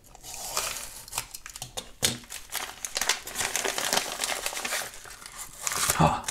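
A postal parcel is cut open and unwrapped, giving close, busy crinkling and tearing of packaging with sharp snips and rustles throughout, loudest near the end.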